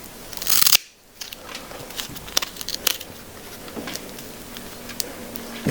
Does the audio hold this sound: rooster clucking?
no